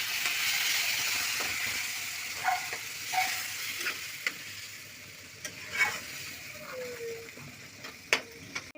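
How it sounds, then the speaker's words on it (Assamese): Water poured into a pan of frying tomato masala, with onion and spices, for an Assamese fish curry with data shak. The sizzle runs steadily and fairly close, broken by short clinks and stirring scrapes, with no talking. "এতিয়া ইয়াতে দিম মই পানী"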